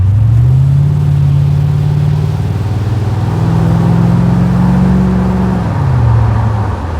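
Chevrolet Corvette C4 V8 engine pulling steadily on a narrow Dutch road, a loud continuous low rumble that rises in pitch, holds, then eases off as the revs drop near the end, heard from inside the car with no talking.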